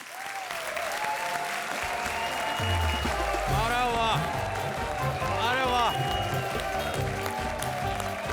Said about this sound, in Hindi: तो जोरदार तालियों से स्वागत कीजिए उनका।